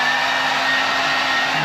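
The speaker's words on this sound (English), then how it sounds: "Hairdryer." A hairdryer blows with a steady, even whooshing whine, close and constant throughout.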